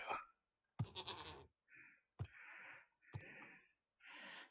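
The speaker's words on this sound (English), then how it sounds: "goats are spawning" Several short nasal goat bleats in a row from Minecraft, electronic-sounding and separated by brief silences, close and clear.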